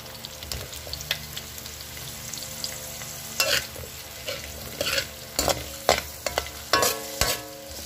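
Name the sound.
onions and squash frying in a pan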